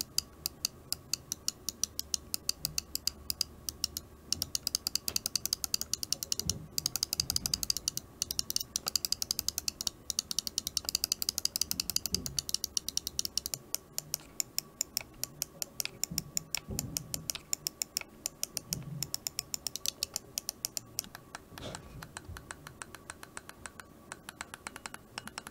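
The switches of a Razer Viper Mini computer mouse click rapidly and sharply for about twenty-five seconds, in dense, close, crisp bursts with short pauses between them and no talking.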